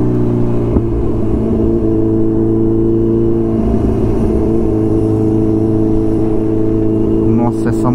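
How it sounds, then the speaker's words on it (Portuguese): A two-stroke motorcycle engine drones loudly and steadily nearby with a buzzy, even hum that barely changes pitch over several seconds. "Essa moto que tá na minha frente aqui é uma dois tempos"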